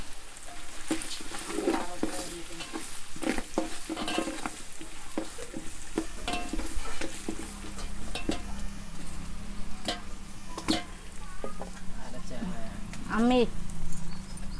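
Shallots and ginger-garlic paste stirred in hot oil in a village-style kitchen, a continuous sizzle with scraping spoon strokes against the pan, under occasional speech.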